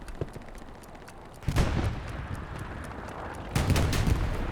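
A Sherman tank cannon fires in Hell Let Loose, a World War II shooter game. There are two heavy booms with a rumbling tail, well spaced, set against a steady backdrop of distant gunfire and with no voices.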